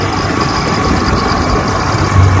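A 60-year-old Johnson 10 HP outboard motor idling after carburetor adjustment and gearcase rebuild, a loud, steady, even engine rumble close by, no talk.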